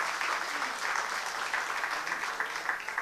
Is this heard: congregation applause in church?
yes